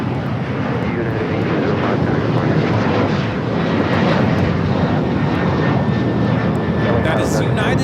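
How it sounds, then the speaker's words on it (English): A United Airlines Boeing 737-900ER takes off at Los Angeles airport, a loud, continuous jet engine roar that holds steady throughout, with voices faintly beneath it. "That is United Airlines 1805 taking off to Baltimore on the 737-900ER"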